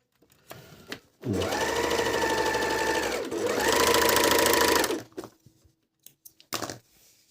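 A MEDION MD-19169 overlock machine runs steadily for about four seconds while stitching a seam, a loud close mechanical whir with a brief dip in the middle, framed by a few soft handling clicks before and after.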